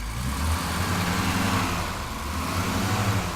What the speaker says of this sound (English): I'll give it a couple little revs.